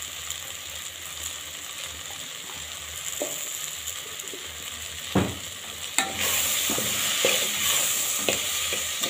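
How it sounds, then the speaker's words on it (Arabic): Vegetables and potatoes with paprika and spices sizzle in a pan, stirred with scraping clatters and a few sharp knocks, then the frying grows louder and denser. "نديهم كده تشويحه مع بعض."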